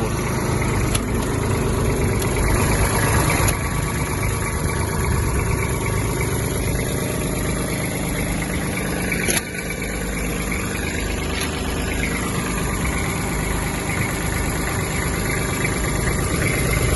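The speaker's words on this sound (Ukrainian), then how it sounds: "Двигун працює рівно, чисто." A Kubota GB-20 Japanese mini tractor engine idling steadily, a constant low mechanical throb with slight vibration, close by, with a brief dip in level partway through.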